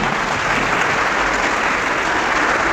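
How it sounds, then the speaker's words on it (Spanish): Steady audience applause at a Universal Prophecy Church of God gathering, welcoming a fellow brother during a pastors' debate, dense and continuous clapping throughout with no voices. "Un aplauso para el hermano."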